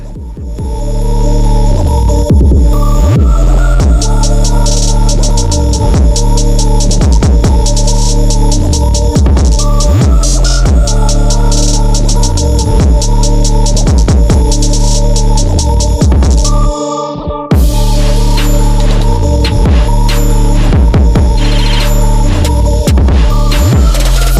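A welder lays tack welds on the panoramic roof of a 1973 Impala, making a loud, steady electrical buzz with throbbing pulses that runs continuously and breaks once briefly before resuming.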